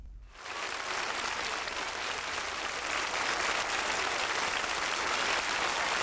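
A crowd in the streets of Baracaldo applauds arriving steelworkers from Altos Hornos at the end of their Iron March, dense sustained clapping that swells in quickly and holds steady and loud throughout.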